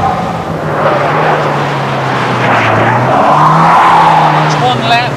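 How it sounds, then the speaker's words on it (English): An MG Montego 2.0-litre four-cylinder turbo laps Thruxton Circuit, its engine droning loudly and steadily from inside the car, pitch rising and falling through gear changes, with a voice talking over it throughout. "It's one lap at Thruxton Circuit in a Montego Turbo."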